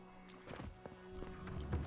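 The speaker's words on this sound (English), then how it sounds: "Trampled by horses." Horses gallop in a video game, with a short burst of soft, uneven hoofbeats that thicken toward the end over a low steady hum.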